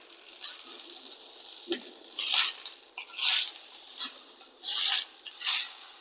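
Green pigeon pea seeds roast in a pan with a few drops of oil, giving a soft steady sizzle and crackle with several louder bursts of popping and hissing, close and alone.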